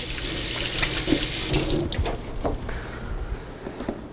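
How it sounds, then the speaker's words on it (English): Water pours steadily from a kitchen tap as hands are washed, a close, loud rushing that eases slightly toward the end, with light splashing and no talk. "Let me just wash my hands quick."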